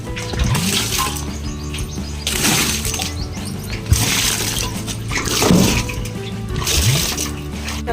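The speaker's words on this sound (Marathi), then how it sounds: "तर इथे थोडंच पाणी टाकते कारण छोटे छोटे झाडं आहेत इथं." Water poured gently onto small plants in a garden, an uneven splashing and trickling that comes in several separate bursts, close by, with some speech in the background.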